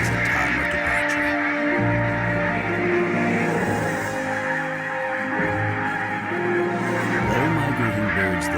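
Flocks of migrating birds, likely geese, calling in Estonia in November, a dense chorus of honking calls at moderate distance that carries on continuously over a steady outdoor background.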